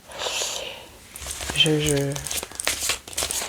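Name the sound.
drawing tarot cards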